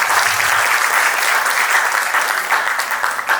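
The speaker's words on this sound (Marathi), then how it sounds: "जरा जोरदार टाळी हाणली तरी चालू शकतो" An audience bursts into loud, sustained clapping during a Marathi stage performance, a dense, even wash of many hands that holds steady for a few seconds without any voices.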